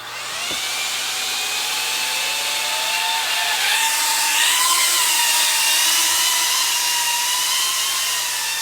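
A small whoop drone flies indoors, giving a steady, high-pitched whine whose pitch wavers and bends as the throttle shifts, close and continuous throughout.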